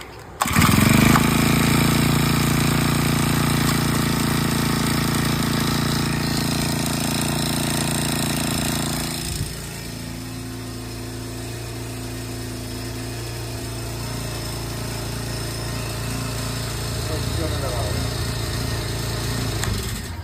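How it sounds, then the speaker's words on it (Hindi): A brush cutter engine starting without choke, catching almost at once into a loud, steady high-revving two-stroke buzz, then dropping to a lower, rougher idle for the rest, no talking. "बिना चौक लिए मशीन एक बार में स्टार्ट हो रहा है।"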